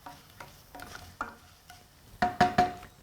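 Chopped garlic and ginger frying in a pan while being lightly browned for a spicy masala khichdi, heard as a few stirring scrapes followed by three sharp bursts of sizzling, close and fairly loud.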